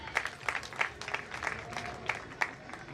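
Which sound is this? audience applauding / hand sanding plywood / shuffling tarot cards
audience applauding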